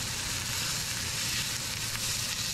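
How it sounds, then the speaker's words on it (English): Ground beef browning in a little olive oil in a single pan, a steady broadband sizzle that holds evenly throughout at close range, with no talk. "I cook the meat separately, and I'm only using ground beef. And I just cook it in a little bit of olive oil,"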